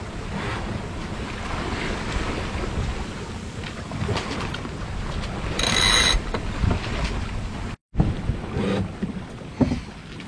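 Waves breaking on a shallow bank while under sail, a broad surging wash mixed with wind buffeting and hull water noise, swelling louder partway through before a brief dropout.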